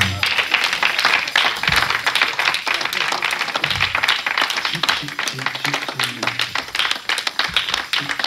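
Church congregation applauding the Lord during a worship service, dense continuous clapping from many hands with voices and cheers mixed into the crowd noise throughout.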